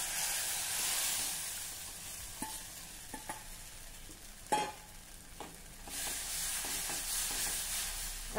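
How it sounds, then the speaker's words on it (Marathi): Rice flour stirred into boiling water over a medium-to-high flame, with a soft bubbling hiss underneath irregular scrapes and knocks of the spoon against the pot. "आता आपल्याला हे एकसारखं ढवळत राहायचं आहे, म्हणजे उकळ छान घट्ट होईल"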